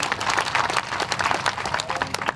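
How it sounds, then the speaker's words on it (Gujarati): A crowd at a Gujarat Dalit-Bahujan political gathering claps steadily for journalists, dense sustained applause filling the room with no voices over it. "તમામ પત્રકાર મિત્રોને તાળીઓથી વધાવીએ"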